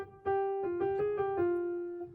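Single piano notes pick out part of a song in a short phrase of quick repeated strikes, then a longer held note fading out, played softly and close up.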